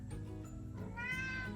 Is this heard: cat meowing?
yes